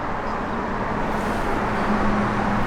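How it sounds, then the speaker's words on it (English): Exhaust of a 1965 Chevrolet Corvette L76 V8, a steady low rumble running continuously and fairly close, with no voices over it. "Love the sound of exhaust."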